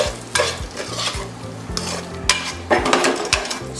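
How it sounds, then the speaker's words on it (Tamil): Carrot halwa is stirred and spread around a hot pan, with a low sizzle under repeated scraping strokes of a spatula and occasional clinks against the pan, close and clear. "இதை சேர்த்த பிறகு கொஞ்சம் நல்லா ஃபுல்லாக ஸ்ப்ரெட் பண்ணி கிண்டி விடுங்க"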